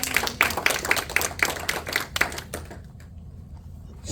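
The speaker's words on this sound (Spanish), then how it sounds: "¿No le da un aplauso a usted a la palabra del Señor?" A church congregation claps in unison, brisk and fairly close, with a steady rhythm for nearly three seconds before the applause stops abruptly and leaves quiet.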